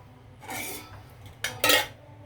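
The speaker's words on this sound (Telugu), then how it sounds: "ఇప్పుడు మనము ప్లేట్లోకి తీసుకుందామండి, డిష్ అవుట్ చేద్దాము." Metal spoon scraping and clinking against a pot and plate as carrot sabudana payasam is dished out, two distinct clattering bursts close up with no talking.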